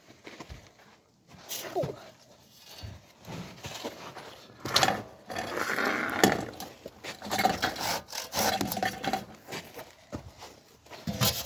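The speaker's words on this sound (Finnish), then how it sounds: "Nyt mä sahaan." Irregular rasping and crackling of wet wood being hand-sawn for kindling at a campfire shelter, uneven strokes with creaks and snaps, close by, with occasional brief talk.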